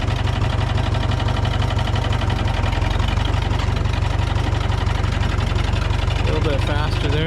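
A John Deere 3010 tractor engine runs in second gear, giving a steady, loud mid-to-low drone that holds evenly throughout without pauses.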